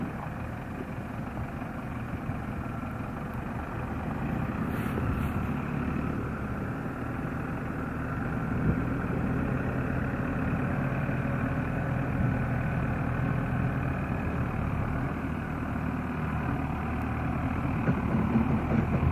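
A Case JX-series farm tractor idles in a village yard, its engine giving a steady low rumble that holds for nearly twenty seconds with no voices over it.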